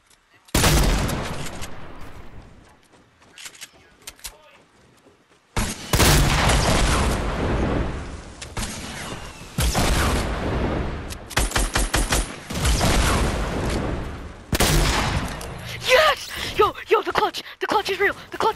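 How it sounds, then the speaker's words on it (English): Sniper and other gunfire in the video game Fortnite comes as bursts of sharp loud shots and booms separated by brief silences, with a player talking over parts of the action. "now I'm getting sniped from behind."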